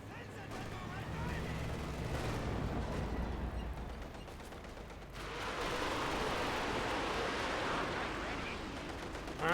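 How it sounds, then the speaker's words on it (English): A Panzerwerfer rocket barrage lands in Company of Heroes 2, a dense roar of rapid explosions and rumbling impacts that swells again midway, loud and continuous, around a tank and vehicle repair stations. "those rockets are going to be landing all over the tank with the vehicle repair stations"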